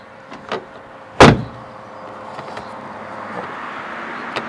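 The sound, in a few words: Renault Zoe rear door opened by its handle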